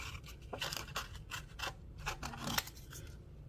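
Scissors snip and trim through a paper fish card, a run of quick, close crisp cuts with small scraping sounds between them and no talking.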